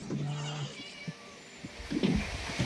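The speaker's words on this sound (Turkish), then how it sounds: "Ya bu kedi hiç susmaz mı ya?" Cat meowing in the video game Scary Teacher, a drawn-out meow followed by a few shorter ones, fairly close and loud against quiet game background.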